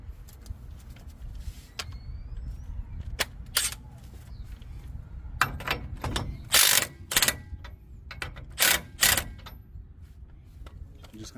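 Wrench loosening a 21 mm tie rod end nut during a 6-inch lift kit install on a Dodge Ram 1500, with sharp ratcheting clicks and clanks in irregular bursts over a quiet background.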